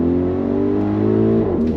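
A 2022 Audi RS Q8 SUV accelerating under throttle, a loud, close, sustained engine drone with steady harmonic pitch and a slight shift near the end, no voices.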